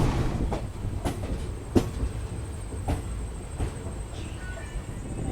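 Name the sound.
Raxaul Howrah Express train running, sleeper coach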